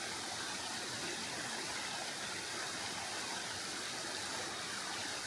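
Roaring waterfall about 30 meters high, a steady broadband rush of falling water filling the whole clip without pause, loud and close, with no voices.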